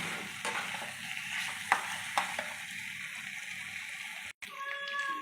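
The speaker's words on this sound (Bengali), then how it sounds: "ভেজে রেখেছি সেই চিকেনগুলোও দিয়ে দিচ্ছি দিয়ে আমি আবার পাঁচ মিনিট ভালো করে মশলার সঙ্গে" Fried chicken pieces are stirred with spices in a pan, producing a soft, close sizzle with a few sharp scrapes and clinks of the spoon against the pan.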